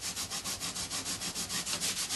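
Dried masking fluid is rubbed off watercolour paper with quick, steady back-and-forth strokes. The scratchy, close rubbing repeats about six times a second, even and unbroken, with no talking over it.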